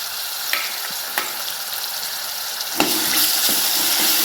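Ginger, garlic and coriander paste fries in oil with a bright, steady sizzle that swells louder partway through, punctuated by occasional light taps of a spoon on the pan.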